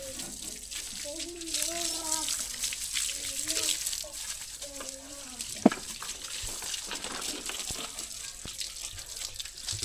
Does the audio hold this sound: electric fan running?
no